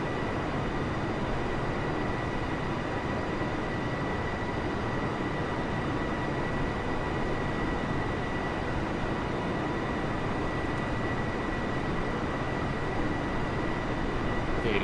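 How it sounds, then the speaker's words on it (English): Rain drumming on the airframe in Microsoft Flight Simulator during a Jacksonville to Charlotte flight, a steady, dense hiss and patter blended with constant engine drone, unchanging and fairly loud throughout. "you can start hearing like the rain effects hitting the plane"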